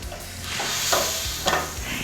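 Wine hits a hot pan as the heat goes up, producing a continuous close sizzle and hiss with brief stirring scrapes and no voices.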